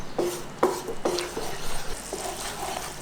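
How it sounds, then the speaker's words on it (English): Green curry paste being stirred gently into simmering coconut milk in a pan, with a spoon scraping in several distinct strokes over a low bubbling background. "So nice and gently, just keep stirring as it's cooking."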